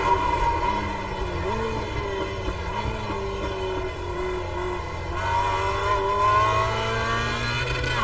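A Mazda MX-5 race car engine drones steadily and close, its pitch climbing and dipping as it pulls through the gears, with a voice talking over it.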